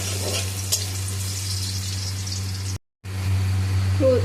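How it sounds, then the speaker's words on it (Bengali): Continuous sizzling of garlic frying in hot oil in a wok, steady and close, with a brief dropout near the end and faint stirring scrapes. "তারপর রসুনটাকে একটু করে ভালো করে নাড়াচাড়া করে ভেজে নিতে হবে।"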